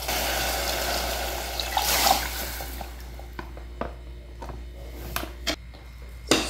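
Water is poured into a cooking pan with tomato sauce for eggplant lasagna: a continuous splashing pour for a couple of seconds, then quieter scattered clinks and light taps.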